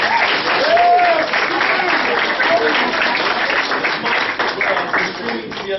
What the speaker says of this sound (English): Give a round of applause for Gabe Salazar.